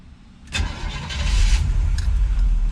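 A 1979 C3 Corvette with the L-82 V8 cranks and fires up at close range, catching after a brief starter whir and settling into a deep, rumbling idle that grows louder and steady.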